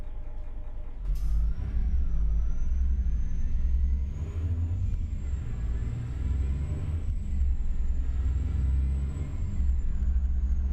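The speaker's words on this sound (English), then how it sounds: "This thing sounds like a sport car more than it does a truck." Truck engine in American Truck Simulator, version 1.59, rumbling steadily at close range with a sporty, car-like revving tone that holds loud and continuous throughout, no talking over it.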